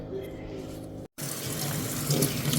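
Tap water runs into a sink while jackfruit is rinsed, a steady splashing hiss that cuts out for an instant and then continues, growing slightly louder and busier.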